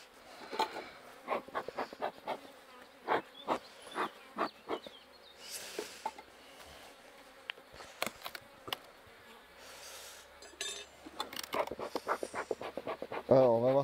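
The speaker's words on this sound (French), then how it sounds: "on peut leur piquer aussi un peu d'abeilles parce que c'est quand même très populeux" Honeybees from a populous hive buzz close by while a beekeeper works the colony, with a steady insect hum broken by frequent sharp handling knocks and clicks.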